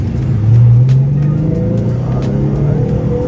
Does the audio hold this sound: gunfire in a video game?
no